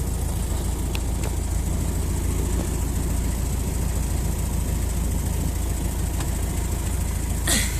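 A Ford Model T engine idles steadily, a continuous low rumble close by with faint clicks and a brief louder burst near the end, no talk over it.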